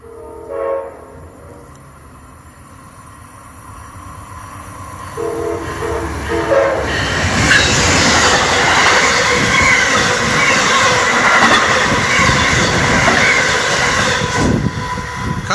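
A SEPTA diesel train rolls through Radnor station on the Keystone corridor in Pennsylvania, starting faint and swelling into a loud, sustained rumble and rail roar as it passes close by.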